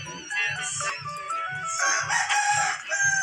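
A rooster crows loudly and repeatedly over soft rhythmic clucking from nearby chickens.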